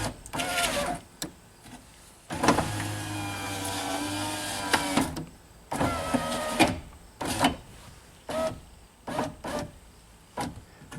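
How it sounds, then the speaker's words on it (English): Electric power window regulator motor in a Sunfire/Cavalier door whirring in repeated runs, with a long steady grind in the middle and short bursts before and after, close and fairly loud with no talk. "Sounds like a nice healthy motor though."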